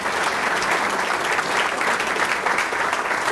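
A large audience at a Martin Luther King Jr. community breakfast applauds steadily, a dense, even wash of clapping that holds at full strength throughout with no talk over it.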